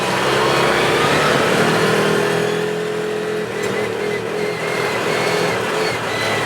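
A car engine surges on and off during slow driving at about 13 mph down a driveway, a loud, steady engine roar that swells and dips unevenly, heard up close from inside the vehicle.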